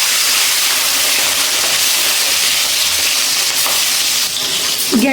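Prawns, salted and coated in turmeric, fry in hot oil over a high gas flame, producing a loud continuous sizzle and crackle that stays close and steady with a brief stir near the end.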